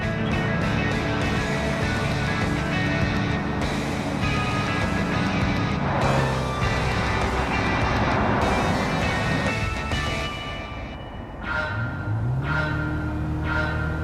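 Race car engines roar together at the start of a race in Gran Turismo 7, a loud sustained drone with shifting pitches that briefly dips before rising again.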